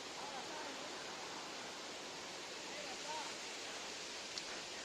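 Muthyala Dhara waterfall in Telangana pours steadily as a soft, distant, even roar of falling water, quiet throughout with no break.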